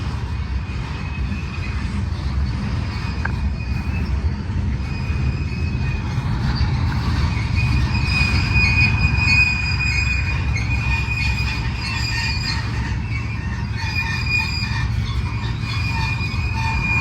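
A long Norfolk Southern freight train with helper locomotives on the rear rolls steadily past near Altoona, Pennsylvania, with a continuous loud rumble of wheels on rail and thin metallic wheel squeals over it.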